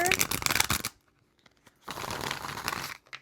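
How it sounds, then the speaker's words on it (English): Tarot cards being shuffled in two quick riffling bursts separated by a brief near-silent pause, close and crisp. "let's give these one more quick shuffle for what is coming towards pile 4"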